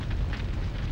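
A single heavy blast from an upgraded shotgun in Resident Evil Code Veronica X, a loud, close, rumbling boom that fills the short moment.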